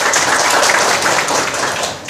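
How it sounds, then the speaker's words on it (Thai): An audience applauds at a mini talk show during a book and learning week event, with dense, steady clapping from a crowd that holds for about two seconds and eases slightly at the end. "ปรบมือให้ชาวอุบลสักขนเทิน"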